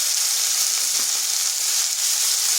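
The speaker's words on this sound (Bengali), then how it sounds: "একটু ভেজে নিলাম যাতে আদার কাঁচা গন্ধটা চলে যায়।" Ginger frying in a pan for a cabbage dish, a steady, dense sizzle that holds unbroken from start to finish, loud and close with no voices.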